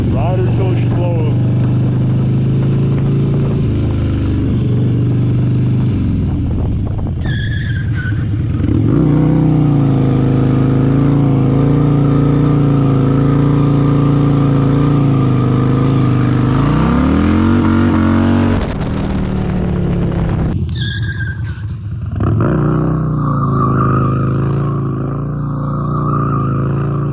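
A car engine revs hard and repeatedly while doing donuts, its pitch climbing and falling in long sustained surges, loud and close throughout, with a voice briefly heard alongside.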